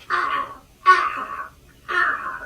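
Three harsh caws ring out from crows overhead in a bleak, frozen landscape, each call loud and drawn out, evenly spaced and heard alone.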